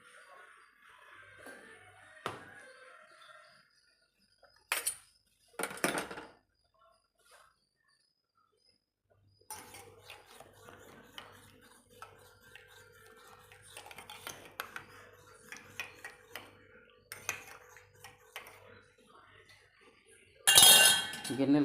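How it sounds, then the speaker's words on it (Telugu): Cooking pots and pressure cookers used for chicken the day before get washed by hand, with sparse metallic clinks and clatters between long quiet gaps and a louder burst of clanking at the end. "నిన్న చికెన్ వండిన గిన్నెలు అన్నీ ఈరోజు కుక్కర్లు కూడా కడగాలి"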